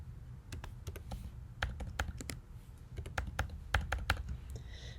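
Fingers tap quick, uneven keystrokes on a computer keyboard, entering a list price, a close, crisp clicking burst over a soft low hum.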